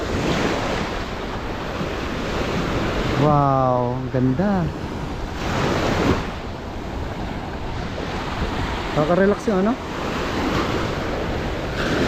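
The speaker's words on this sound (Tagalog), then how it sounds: "Alon ng dagat." Ocean waves surge and crash in a steady roar with gusty wind, close by at Patar Beach in Bolinao, Pangasinan, while a person speaks briefly twice over the surf.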